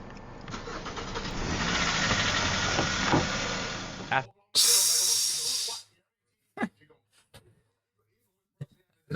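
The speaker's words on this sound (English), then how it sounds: "After successfully activating the engine with a USB cord, Swervo's on the move" A 2010 Kia Forte's engine, started with a USB cord, roars in a loud, steady rush for about four seconds, then gives way to a sharp hissing burst and a few brief knocks and clicks.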